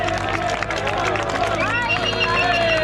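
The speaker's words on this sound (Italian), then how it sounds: "Guardate che tifo." Roadside fans cheer and shout along a Giro d'Italia time trial course near Conegliano, a lively crowd din with whistles and voices as a rider passes, under a commentator talking.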